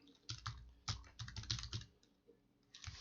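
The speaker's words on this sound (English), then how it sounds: "So let me take a moment and just type in my details here." Bursts of quick, close keystrokes on a computer keyboard as account details are entered during software setup, with brief pauses between runs of clicks.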